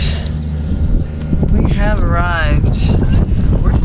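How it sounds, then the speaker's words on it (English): Wind gusts steadily around an anchored sailboat with its engines off, a broad rushing buffet with a few whistling, wavering tones rising through the middle, close and loud throughout. "Gargoyle swinging in the wind."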